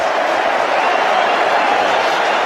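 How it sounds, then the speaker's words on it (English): A big cricket stadium crowd rises and cheers in a dense, steady roar that fills the space at constant loudness, with no single voice standing out. "And the crowd are rising to this too."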